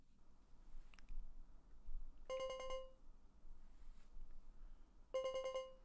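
Phone ringing in the video game Deadly Premonition 2: two separate electronic ring bursts of bright harmonic tones, each lasting about half a second, sounding over a quiet low background.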